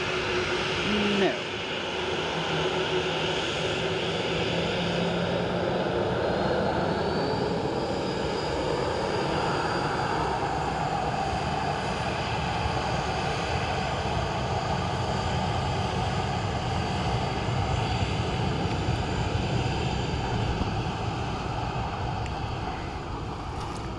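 A Ryanair airliner at Dublin Airport produces a continuous, loud engine roar and rumble that holds steady across the whole stretch, mixed with some wind noise.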